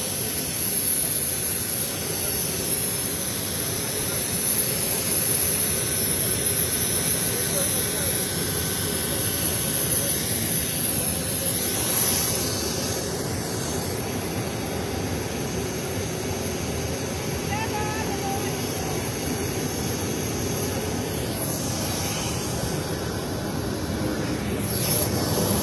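A jet airplane engine roars steadily at boarding, a constant loud whine and rush with a high tone that holds for about half the time before fading, with no pauses.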